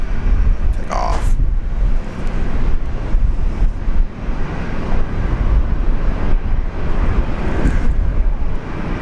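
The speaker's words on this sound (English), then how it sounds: "The machine, Airbus A330-200 off to Auckland, New Zealand" Airbus A330-200 airliner bound for Auckland, New Zealand, taking off from Brisbane International Airport during a severe storm, a loud roaring jet rumble mixed with heavy wind and rain noise, steady throughout.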